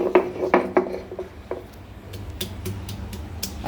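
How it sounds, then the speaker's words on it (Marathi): Ginger, garlic and coriander are crushed on a stone slab with a stone roller, giving close knocks and clacks at first, then softer scraping and a run of sharp, gritty taps. "आलं लसूण आणि थोडीशी कोथिंबीर ही आपण पाट्यावरती वाटून घेतो आहे"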